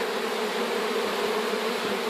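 A loud, dense swarm of honeybees drone continuously around honey frames left out to dry after extraction, the buzzing close and unbroken throughout.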